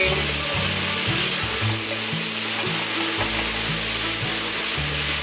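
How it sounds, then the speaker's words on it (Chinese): Turmeric and tofu skin pulp sizzle and fry in a wok while being stirred, with a steady crackling hiss and intermittent scraping strokes of the spatula throughout. "把姜黄和豆包浆炒均匀"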